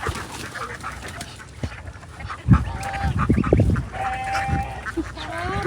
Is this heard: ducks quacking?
yes